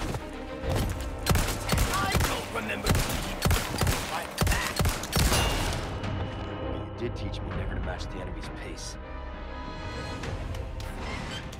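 Shotgun blasts and gunfire in the Resident Evil 4 Remake video game: loud, dense bursts of repeated shots through the first half, then lower rumbling action, with a voice talking over it.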